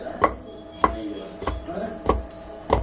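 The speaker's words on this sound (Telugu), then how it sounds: "ఇలా మనం ధనియాలు, తెల్లగడ్డ, కొత్తిమీర, కొబ్బరి అన్నీ వేసి దంచుకోవాలి." Coriander seeds, garlic, coriander leaves and coconut pounded together for a mutton curry masala, about five heavy, evenly spaced thuds with a woody knock, close by and with no talking.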